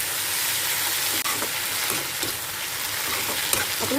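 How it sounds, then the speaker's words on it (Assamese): Sour tenga leaves fry in an oily pan with a loud, steady, close sizzle that never lets up, with a brief stir-scrape partway through. "অলপ গলি যোৱালৈকে ভাজিম"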